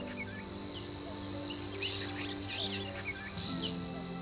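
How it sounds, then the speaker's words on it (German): A Savi's warbler's continuous, insect-like buzzing reeling trill carries steadily through the reeds in Bavaria, with other birds chirping faintly around it. "Das ist ein Rohrschwirl. Das ist auch eine Art, die praktisch nur im Schilf lebt."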